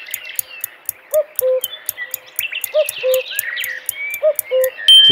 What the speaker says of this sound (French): C'est le coucou, bien sûr.